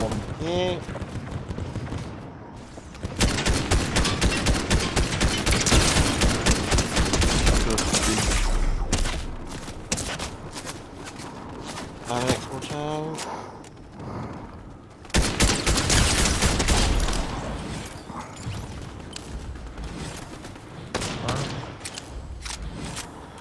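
Fortnite squads gunfire on PS5: long bursts of rapid automatic shots crackle and pound in two heavy stretches, separated by quieter lulls, while several players talk over the action.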